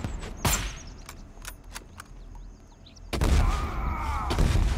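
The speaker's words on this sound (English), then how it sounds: "Why is there random explosions happening?" Random explosions in the Grayzone Warfare video game: a sharp blast early on, a few brief distant bangs, then a loud sustained rumbling burst of blasts from about three seconds on.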